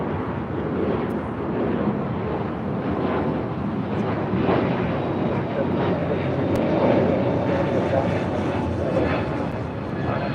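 A Delta Airlines Airbus A321neo passes at LAX with a steady, broad jet roar that swells slightly toward the middle, heard at moderate distance with wind buffeting the microphone throughout.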